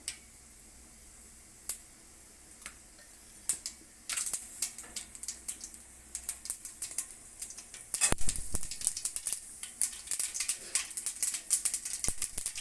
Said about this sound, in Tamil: தேவையான அளவு கடுகு சேர்த்துருவோம் கடுகு உடையட்டும்